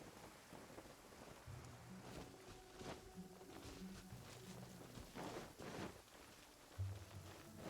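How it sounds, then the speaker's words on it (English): Steady rain falls in the game Genshin Impact, a continuous hiss with light patter, faint and mixed with game music tones and occasional soft footsteps. "It's raining."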